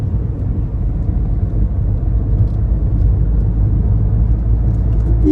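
Road traffic on a quiet Sunday, with cars passing as a steady low rumble that stays even and fairly loud throughout, with no voices.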